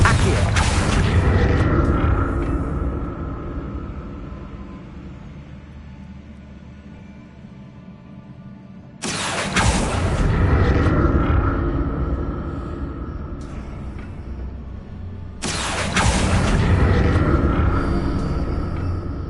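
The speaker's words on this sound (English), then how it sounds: "What did that burst of magic do?" Three heavy magic spell explosions go off in a Hogwarts video game, each a sudden loud boom whose deep rumble slowly fades before the next blast.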